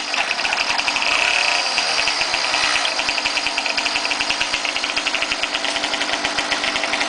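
A kickstarted motorized bicycle engine with a custom 3-speed runs close by, giving a loud, steady, rapid two-stroke putter that thrums evenly throughout with little variation and no one speaking over it.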